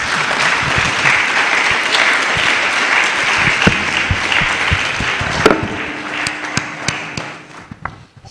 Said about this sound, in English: I think our speaker needs another round of applause.